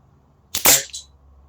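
A single sharp crack from an Air Arms TX200 HC hunter carbine air rifle, close and loud, with a brief ringing tail against a quiet background.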